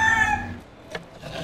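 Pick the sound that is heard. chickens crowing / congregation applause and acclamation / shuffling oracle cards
chickens crowing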